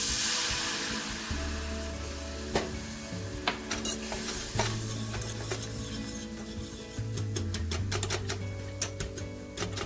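White wine splashes into a roux in a hot pan, followed by sizzling and the scrape and tap of a utensil stirring against the pot.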